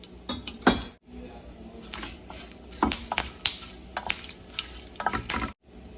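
Curry leaves, mustard seeds and cumin dropped into hot oil in a pan, giving crackling spatters and sizzling bursts mixed with metal clinks of a spoon against the pan, close and uneven.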